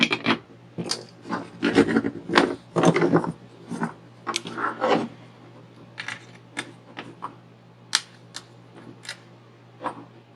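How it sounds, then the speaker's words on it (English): An IC chip is pried and pulled from a Fender FM 25R amplifier circuit board: a run of close, dry scraping, rasping and clicking bursts, some sharp, over a low steady hum, with no talking. "that should be enough to pull the chip out"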